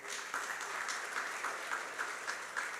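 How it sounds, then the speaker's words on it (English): Steady applause from an audience at a STEM camp graduation ceremony, a dense, even wash of clapping that holds its level throughout with small swells. "So we need to give them a round of applause for that."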